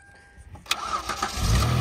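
An all-wheel-drive car engine cranks and catches, running on a 12-volt supply: a sharp start transient followed by a rising, steady engine roar close by with no talk.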